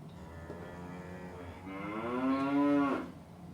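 A storyteller's voice imitates a cow mooing during a children's story yoga session, one long drawn-out moo that rises in pitch and loudness before cutting off, heard alone without other talk.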